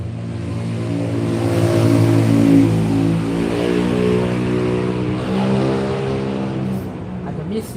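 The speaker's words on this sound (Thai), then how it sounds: "อาจจะมีเสียงรบกวนครับจากเสียงรถก็ดีมอเตอร์ไซค์รถยนต์ก็ดีนะครับ" Motorcycles and cars pass along a road with a steady, loud engine drone that swells and fades as vehicles go by, and one engine revs up near the end.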